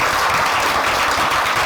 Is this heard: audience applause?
yes